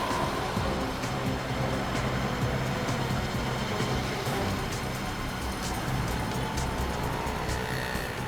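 A car drives fast on a road, a dense, loud, steady rush of engine and road roar with wind noise, heard continuously from inside or close by with no voices.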